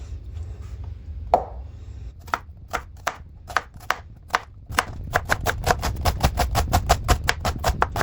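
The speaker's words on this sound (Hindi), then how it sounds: "मैंने यहाँ पे प्याज लिए, इनकी कटिंग करेंगे।" Onions being chopped with a knife on a board, a few slow separate thuds at first that build into a fast, steady run of crisp chops, close and clear with no talk.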